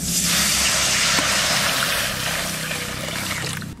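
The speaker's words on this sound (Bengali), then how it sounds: "কড়াইতে জল দিয়ে দেবো।" Water pours steadily into a wok on the stove, a loud, close, continuous rush that eases off slightly toward the end.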